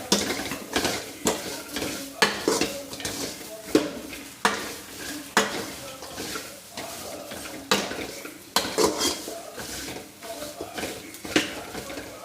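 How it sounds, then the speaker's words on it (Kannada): Dry frying without oil over a high flame for a sambar-style gravy, with repeated rhythmic scraping stirs and clanks of a spatula against the pan over a faint sizzle. "ವಿತೌಟ್ ಆಯಿಲು, ಓಕೆನಾ, ಹೈ ಫ್ಲೇಮಲ್ಲಿಟ್ಟು ಅದನ್ನು ಫ್ರೈ ಮಾಡ್ಕೋಬೇಕು."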